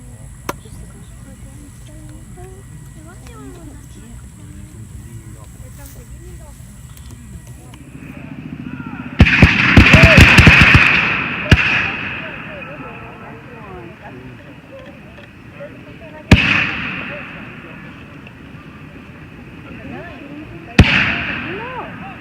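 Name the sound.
gunfire at a historic battlefield reenactment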